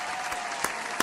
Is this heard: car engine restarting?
no